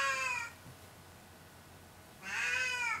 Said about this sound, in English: That's my cat, Soxy.